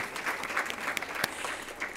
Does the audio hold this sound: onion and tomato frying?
no